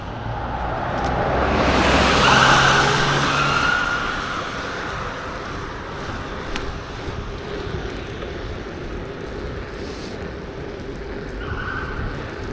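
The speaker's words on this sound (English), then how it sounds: "that police car made me feel negative" A police car passes nearby on a road. Its noise swells to a peak over the first few seconds, then settles into a steady, even rumble of traffic and wind.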